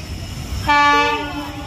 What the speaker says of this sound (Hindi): first electric run Rajkot Veraval passenger शाम की ट्रेन